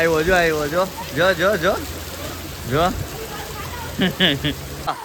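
Steady hiss of heavy monsoon rain in Surat, India fills the background while people talk loudly over it.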